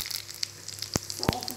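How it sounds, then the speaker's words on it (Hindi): Cumin seeds go into hot ghee and oil in a pan while making pickle, a faint crackling sizzle with a couple of sharp pops and a metallic clink close by. "अब हम इसमें घी डालेंगे, जीरा डालेंगे"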